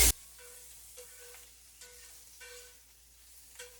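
Sausage fries in a home kitchen pan, giving a steady sizzle broken by a few short stirring scrapes, close and fairly quiet, with no one talking.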